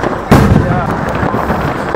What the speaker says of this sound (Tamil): மேல போய் வெடிக்கிற பட்டாசு தான்